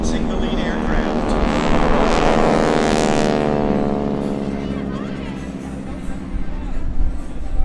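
Several Skytyper propeller aircraft roar past in a vertical diamond formation at an airshow, a loud droning sweep that swells and then recedes, with an announcer talking over it.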